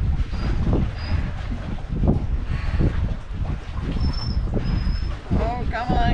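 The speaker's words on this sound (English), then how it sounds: "it's super windy out here" Strong wind buffets the microphone outdoors in gusty, rumbling waves, with faint whistling tones and a brief voice near the end.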